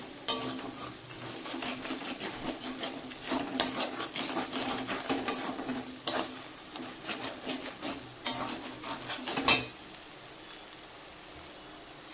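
A spoon scrapes and stirs chicken curry with spices in a pan over a soft sizzle, in close, irregular strokes with occasional clinks and no talking.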